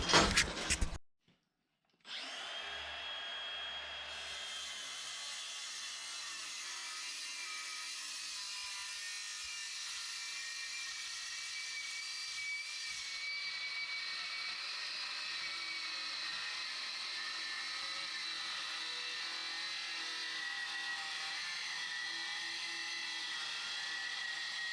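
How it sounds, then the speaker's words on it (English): Circular saw cutting through a metal barrel, a brief loud start, a short gap, then a long steady high-pitched whining cut held evenly to the end, close, with no talking. "I use a circular saw and we'll just hack it off"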